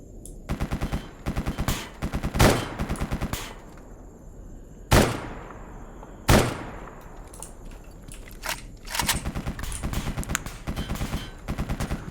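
Gunfire from the video game Escape From Pripyat: loud bursts of rapid automatic shots, with two sharp single shots and long echoing decays partway through, then more short bursts close by.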